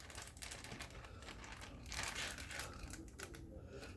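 A plastic zip bag holding Brussels sprouts being handled and unzipped: close, continuous crinkling and rustling of plastic with small clicks, fairly quiet, and no speech.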